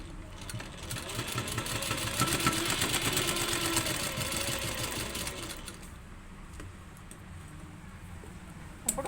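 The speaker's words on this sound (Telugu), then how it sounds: "ఇప్పుడు పై కుట్టు వేసుకుందాం." A sewing machine stitches a blouse in a steady rapid mechanical whirr and needle chatter, close and loud for most of the clip before easing off and stopping near the end.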